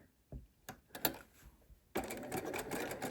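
A home sewing machine stitches in the ditch along a fabric seam: a few short stops and starts, then a continuous fast mechanical whir, close and clear.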